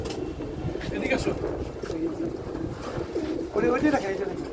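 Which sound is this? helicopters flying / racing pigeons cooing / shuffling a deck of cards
racing pigeons cooing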